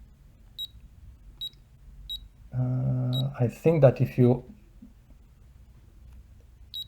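A tiny vintage 1970s Sharp calculator's alarm gives short, high beeps repeating at a steady pace under a nearby voice, which takes over in the middle of the clip.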